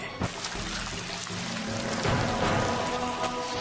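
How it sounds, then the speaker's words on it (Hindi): Steady anime rain from a Hidden Mist jutsu, a dense hiss of drops falling on surfaces that stays fairly loud and even throughout with no voices over it. "अरे ये बारिश भी ना।"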